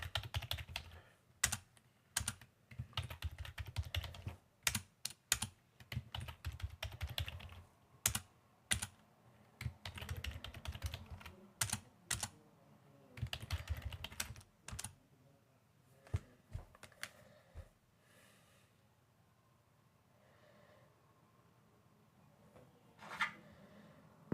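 A password is typed on a computer keyboard in a quiet room: bursts of crisp, close key clicks, then pauses, then a few more isolated taps.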